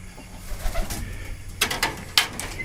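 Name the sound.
pigeons cooing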